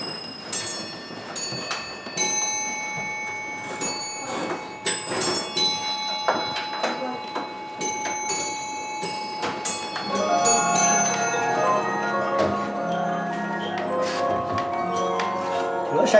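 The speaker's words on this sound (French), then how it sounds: "je vais d'abord vous faire sonner les heures adultes" An astronomical clock strikes the hours on its bells, giving a series of clear metallic rings that overlap and hum, with the chimes growing denser and fuller toward the end.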